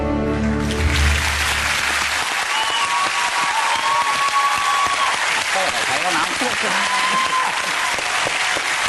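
Studio audience on a Paul O'Grady television show bursts into loud, sustained applause with cheering that fills the whole stretch, following a short burst of music at the start.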